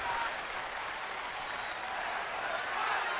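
Steady clapping from a baseball crowd during a Padres home game against the Dodgers in San Diego, late in the bottom of the ninth, broad and continuous applause filling the ballpark without letup.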